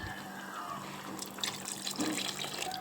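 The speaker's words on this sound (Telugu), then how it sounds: "కొంచెం వాటర్ వేద్దాం." Water runs and splashes steadily into a pot of boiled chana dal and raw prawns for a few seconds, close by, with faint kitchen clatter and no voices.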